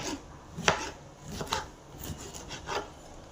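A knife cuts ridge gourd into pieces on a board: about six sharp, close chops fall at an uneven pace, with soft rubbing between strokes.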